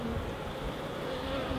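Steady, soft droning hum of a honeybee swarm around a hive box, a dense continuous buzz of many wings heard close, with no voices.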